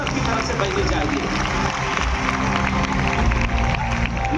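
An audience at a spiritual gathering at Bharat Mandapam breaks into loud, sustained applause, dense clapping and cheering from a large crowd that fills the whole stretch without pause.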